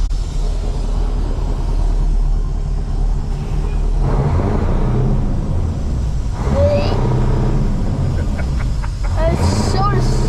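Mack CL dump truck with a big V8 rumbles steadily under way, a loud low engine drone throughout with shifts in pitch and brief squeaks and clicks from the cab.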